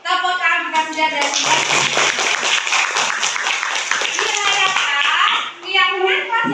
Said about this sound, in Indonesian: Tepuk tangan kita sudah ada.